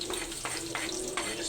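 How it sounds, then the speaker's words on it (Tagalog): Onion and garlic sautéing in a pan, a steady close sizzle and crackle with short bursts of stirring scrapes through the whole stretch and no talk. "Magigisa na po tayo"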